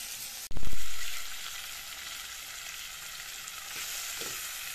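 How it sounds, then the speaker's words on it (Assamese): Fish pieces fry in a pan over a lowered flame, giving a steady, close sizzle and hiss, opened by a sharp knock as something is set down or moved, then a quieter, even crackle. "এয়া মাছখিনি মই কেইমিনিট সময় এনেদৰে ভাজিলো"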